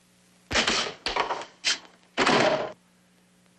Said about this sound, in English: Biggin, shut the door.